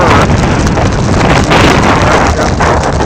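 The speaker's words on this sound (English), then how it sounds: "It's very, very windy, as you can see." Strong blizzard wind roars at the waterside in Chesapeake Beach, Maryland, a loud, unbroken blast that batters the microphone with only slight dips in force.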